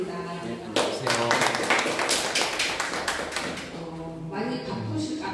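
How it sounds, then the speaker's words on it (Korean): A small seminar audience at a talk on climate change and citrus farming claps for the next presenter. The close, distinct claps build and fade over a few seconds, then a speaker's voice comes in. "큰 박수 부탁드립니다."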